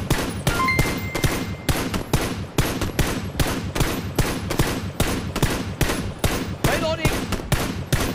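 Rapid bursts of automatic gunfire in a video game, loud and close, repeating steadily throughout while players shout and talk over it.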